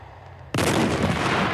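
A tank battle explosion bursts suddenly after a quiet half second, a loud, broad blast that roars on and sustains to the end of the short clip.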